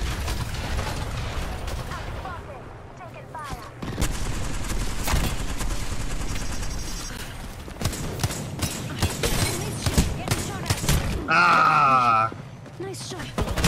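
Gunshots in the video game Apex Legends, scattered cracks and bursts of firing with mechanical clatter, heard under the talk of a player speaking throughout.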